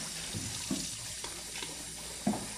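Tap water runs into a sink while fruit and vegetables are washed, a low steady trickle broken by soft splashes and clunks as produce is handled, fairly quiet with no talk.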